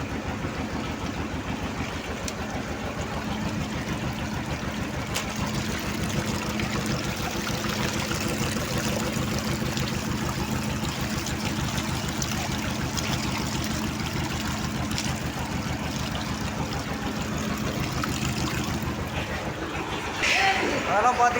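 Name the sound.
water flowing from a spring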